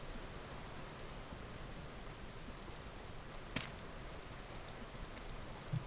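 Rain in the video game Vintage Story falls as a steady, soft hiss of drops on the ground, faint and even throughout, with a brief sharp click near the middle and no talking.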